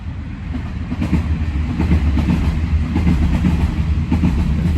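A train rumbles past on a track about 30 feet away in Japan, a loud continuous roar with rhythmic clacking of wheels over the rails.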